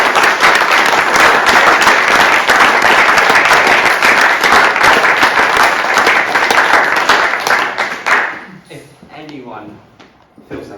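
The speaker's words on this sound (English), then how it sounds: "We should give them a round of applause." An audience at an Explorer Belt expedition presentation gives a loud, dense round of applause that holds for about eight seconds, then quickly dies away into quiet room noise.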